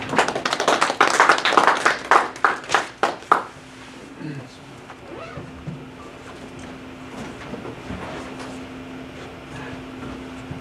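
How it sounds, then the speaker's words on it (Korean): An audience at a Korean community forum claps to welcome a speaker, a short burst of loud, dense applause that fades after a few seconds into quiet room tone with faint movement and a steady hum. "박수로 환영해 주시기 바랍니다."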